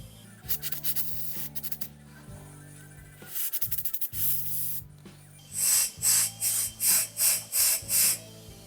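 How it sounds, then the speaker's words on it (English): Compressed air blown through the carburetor of a 2-stroke engine hisses close up in two longer blasts, followed by six short, loud pulsed bursts in a steady rhythm. "I'm just going to take a little compressed air."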